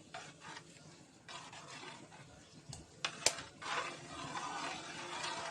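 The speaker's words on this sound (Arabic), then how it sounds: "وتفضلي تقلبي" Rice pudding in milk gets stirred in a pot, a faint, soft, steady scraping and swishing with a few small clinks, and no voices.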